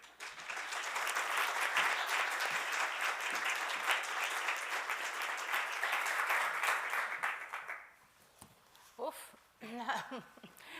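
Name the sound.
audience applause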